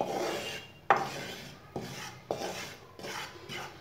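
A spoon scrapes through flour being dry-roasted in a pan for homemade mithai, making repeated raspy strokes in an irregular rhythm, close and fairly quiet, with no talking.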